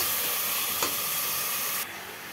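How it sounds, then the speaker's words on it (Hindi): Spice masala frying in hot oil for a chicken dish, a steady sizzling hiss that runs loud and continuous before dropping slightly quieter near the end. "सारा मसाला लेके मसाला को थोड़ा सा फ्राई करूँगी"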